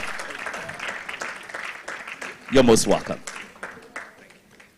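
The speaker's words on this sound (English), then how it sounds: "A round of applause for Aproko Doctor." Audience applause for a guest speaker at a World Children's Day media symposium, a broad wash of clapping with a louder burst midway, while a voice speaks briefly over it.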